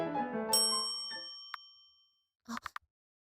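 A bell rings at a piano competition: one bright metallic ding decays over a couple of seconds, with small clinks, then a quick cluster of short taps follows after a brief silence.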